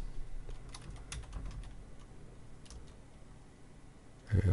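Quick keystrokes on a computer keyboard as a new folder name is entered, soft irregular clicks fairly close, ending with a louder thump.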